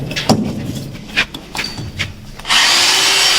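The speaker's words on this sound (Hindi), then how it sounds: "अभी ये ड्रिल मोड पे है, लेके चलो" A handheld power drill set to drill mode, first several brief scraping knocks, then the motor kicks in with a loud, steady, high whine that holds to the end.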